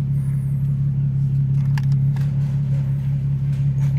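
A car fitted with a newly installed Tomei exhaust runs in a quiet neighborhood in the early morning, giving a steady, low, close rumble that holds evenly the whole time.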